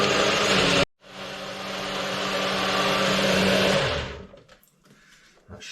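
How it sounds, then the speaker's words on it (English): A blender whirs loud and close, mixing pomegranate juice with fortified soy milk, running steadily for about three seconds after a brief stop, then winding down into quiet clatter. "I'm asking quite a lot of this blender."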